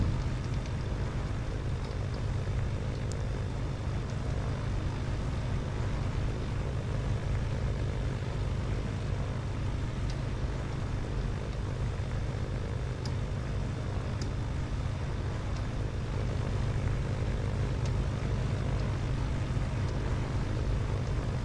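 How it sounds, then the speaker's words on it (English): A propeller aircraft engine idles steadily while warming up in the FSX flight simulator, a constant low droning hum with a faint whine above it, holding at an even level throughout with no voices. "I'm gonna let the engine warm up for a little bit"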